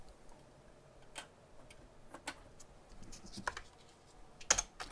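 Typing on a computer keyboard during electronics work at a desk, scattered close clicks and key taps coming in irregular bursts, fairly quiet, with a few sharper louder strikes near the end and no speech.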